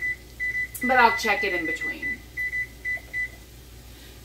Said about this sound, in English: So I will set the timer for 40